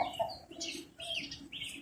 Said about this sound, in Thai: ไก่ชนมีนะครับเยอะ